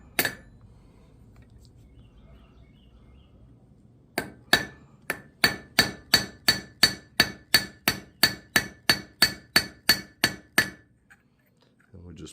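A hammer pins a rivet on a forged mason jar candle holder: one sharp metallic strike, a pause, then a steady run of about twenty evenly spaced, ringing blows that stop abruptly, all close and clear.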